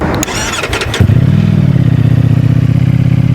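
Ducati Streetfighter V4S motorcycle cranking briefly with clattering, then catching and settling into a loud, steady, close idle burble.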